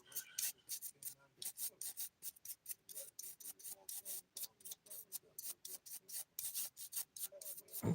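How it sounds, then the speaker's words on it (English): A soft nail brush sweeps filing dust off fingernails in quick, rhythmic bristly strokes, close and quiet, repeating steadily. "I like to use a soft nail brush because I feel like it gets in all the crevices"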